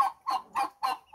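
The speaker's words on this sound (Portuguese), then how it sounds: "Olha os patinhos, que legal." Young ducklings on a farm in Tarumã, São Paulo, give four evenly spaced bright peeping calls, close and clear with short pauses between them.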